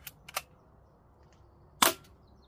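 A cheap BB gun fires, giving a few sharp, dry clicks and snaps near the start followed by one louder, crisp pop, all close and with no voices.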